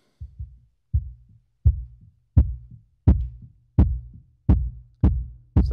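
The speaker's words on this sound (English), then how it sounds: "this is what a sub does. It reproduces that low end punch from the kick drum." Kick drum played alone through a subwoofer speaker, a steady run of deep punchy thumps at roughly even intervals, close and clean with no other instruments.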